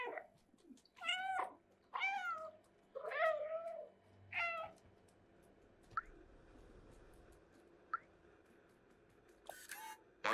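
Several cat meows from the video game Stray, about four distinct calls in the first half, fairly close and clear, followed by a few faint clicks and soft taps.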